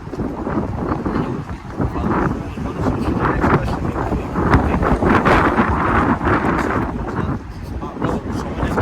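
Strong wind buffeting the microphone outdoors, a loud continuous rumbling roar with gusty swells, and a voice speaking underneath.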